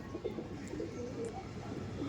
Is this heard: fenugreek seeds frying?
no